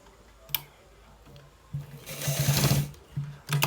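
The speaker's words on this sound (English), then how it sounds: "We are stitching it to the down part." A sewing machine stitching a pocket onto a garment, running in short bursts of rapid mechanical whirring between pauses, with one longer, louder run near the middle, close and without speech.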